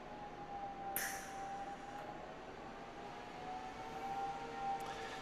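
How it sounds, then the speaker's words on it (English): A welder's cooling fan gives off a steady, faint, siren-like tonal whine in a workshop, holding a constant pitch under a broad background hiss, with a few sharp clicks along the way. "It's actually just the fan on the welder. You weld, it gets louder."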